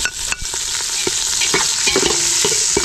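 Garlic and onion sautéing in a little oil, a steady broadband sizzle with scattered clicks of stirring, loud and close throughout.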